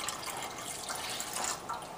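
Warm milk pours steadily into a bread machine pan, a continuous close liquid splashing and trickling for about two seconds with no talk.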